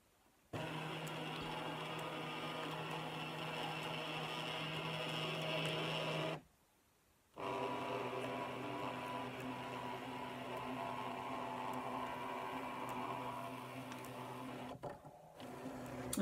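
A Scan N Cut cutting machine scanning a sheet gives a steady mechanical whir with motor hum, running close and alone, pausing briefly partway through and then resuming.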